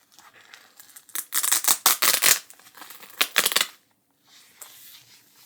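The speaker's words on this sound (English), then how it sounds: "That was the Velcro." Loud, rasping rips of hook-and-loop fastener on a Sony camera lens package being pulled apart in several bursts, close up, then a brief quiet with faint rustling.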